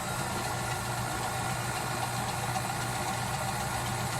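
Electric hand mixer whipping chantilly cream for cake decoration, a steady continuous motor whir with a low hum and rattle, close and constant throughout with no talk.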